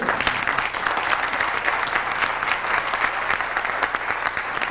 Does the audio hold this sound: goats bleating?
no